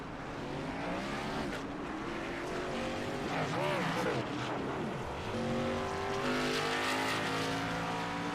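Race car spinning out on the Charlotte Motor Speedway oval in a racing video game, engines roaring loud and continuous with pitch swooping as the car rotates, tyres scrubbing, under excited commentary.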